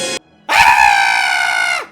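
A dog in a film gives one short yelp, then a sustained, loud, tonal howl-like bark that rings out for over a second before trailing off, with no talking.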